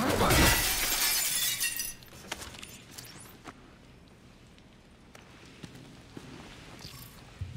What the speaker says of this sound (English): More glass I can break.